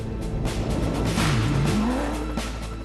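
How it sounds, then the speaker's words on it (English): Hummer rally car number 636 drives through the Baja Hail cross-country rally stage, its engine roaring steadily with rising and falling revs and broad rumbling road noise, no voices. "That Hummer cruising along very nicely indeed."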